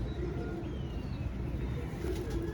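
Ferozpuri pigeon cooing softly in a loft, a low murmuring coo under faint background noise, with no talk.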